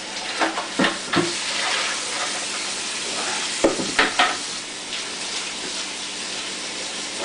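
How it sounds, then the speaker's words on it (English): Sink tap water splashes and runs over a plastic bucket lid as it is rinsed, a steady close wash broken by a few sharper splashing bursts, with no voices. "Rinse our lid off really good."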